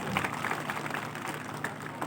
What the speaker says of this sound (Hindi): डॉक्टर टीमों के लिए एक जोरदार तालियां बजा दीजिए